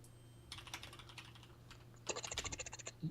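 Rapid typing on a computer keyboard, close and fairly loud, with a short burst of keystrokes followed by a pause and then a second, denser flurry of clicks over a low steady hum.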